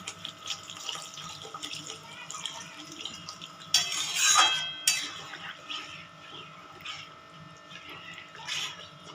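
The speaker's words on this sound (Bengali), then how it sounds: "এবার আমি জলটা দিয়ে দেবো।" Water poured into a pan of sautéed spices for prawn malai curry, a short splashing gush in the middle of soft kitchen clatter and background hum.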